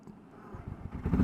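A small motorized buggy or kart bump-starting during a first test ride, engine catching and building from a low rumble into a louder, rough running idle over about a second.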